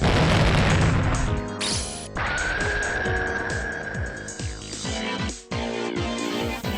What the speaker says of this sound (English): A rumble shook the classroom.